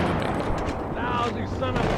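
Gunfire in Halo 2 Anniversary on the Outskirts level, a dense, continuous rattle of shots and blasts with game effects layered throughout, loud and steady with no let-up.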